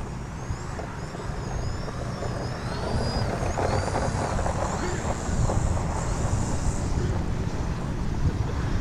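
Steady wind buffets the microphone outdoors during an RC plane test flight, a constant broadband rush throughout with faint whistling tones drifting above it.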